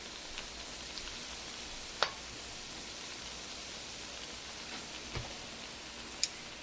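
Old-fashioned chocolate donuts frying in hot oil, a faint steady sizzle with a few sharp pops and crackles scattered throughout, no talk.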